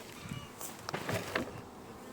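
Honey bees buzz around a beehive at an apiary during a honey harvest, a close, fluctuating swarm drone with several louder passes of individual bees near the microphone.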